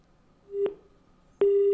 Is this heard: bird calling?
no